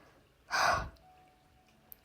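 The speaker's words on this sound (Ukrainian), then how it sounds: "знову вдих і звуковий видих" A single audible breath exhaled during a guided meditation, a soft airy whoosh lasting about half a second, close and fairly loud against near-silence, with no talk.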